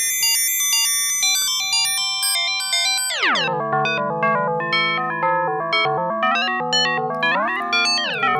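Rings resonator module on a modular synth, set to modal mode, sounds a steady series of metallic bell-like plucked tones in an even pulse, rich overtones ringing together, the pitch dropping sharply midway, close and loud with no talk.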